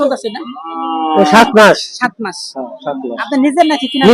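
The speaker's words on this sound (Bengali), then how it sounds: "এই যে আরেকটি সুন্দর দেশি গাবি" A local heifer at a rural cattle market gives a loud, drawn-out moo close by. People talk over and around the call in a busy outdoor setting.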